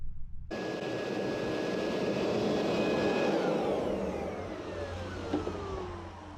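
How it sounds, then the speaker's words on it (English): A steady electric blower whirs loudly and continuously, cooling the fuel rail and injectors of a Jeep Wrangler with a rough idle, starting abruptly and holding a sustained roar that eases slightly toward the end. "we've been using that blower to cool this fuel rail and the injectors"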